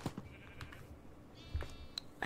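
Sheep bleating in Minecraft, a few short, faint bleats spaced across a quiet background with soft clicks.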